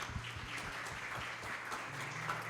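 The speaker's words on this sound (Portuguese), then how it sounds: "Aplauda ao Senhor Jesus." A church congregation claps and applauds steadily throughout, with a few voices faintly mixed in underneath.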